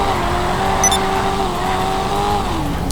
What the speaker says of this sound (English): here's how the car sounds.